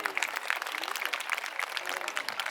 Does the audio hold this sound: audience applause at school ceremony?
yes